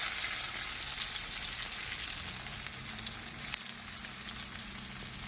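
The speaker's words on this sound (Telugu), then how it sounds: "ఆనియన్స్ వేస్తున్నాడు." Onions hit hot oil already holding lentils and curry leaves, cooked in a parked lorry's kitchen, giving a loud, steady, continuous sizzle with no talk.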